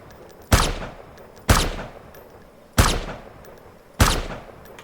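Explosive-ammo gunfire in the DayZ video game: four heavy, booming shots spaced about a second apart, each with a sharp attack and a long decaying rumble, loud and up front with no talking.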